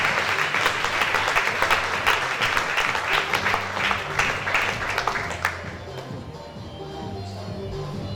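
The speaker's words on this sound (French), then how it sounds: "Acclamez très fort pour Jésus." A church congregation applauding for Jesus, dense sustained clapping from a crowd that fades out after about five seconds, leaving quieter room noise and faint voices.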